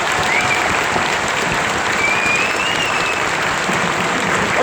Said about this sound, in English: Ladies and gentlemen, please give me a big round of applause for the families, friends, and cadre here today.